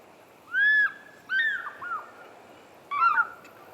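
An African fish eagle gives several loud, ringing whistled calls in short bursts, with brief pauses between them over a quiet background.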